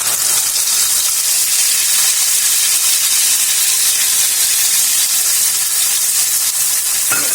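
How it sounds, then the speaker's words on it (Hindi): Cumin, dried red chilli, ground tomato and onion frying in a pan, a loud, continuous sizzle and hiss that stays even throughout with no talking. "इसे हम भून लेंगे।"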